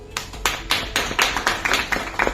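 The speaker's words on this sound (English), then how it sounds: "Can we just clap right now?" An audience at a talk claps in a loose, rhythmic pattern, about ten distinct sharp claps in quick succession, close and fairly loud.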